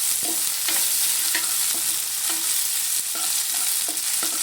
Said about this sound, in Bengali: খুব ভালো করে এটা আমি তেলে ভেজে নেব।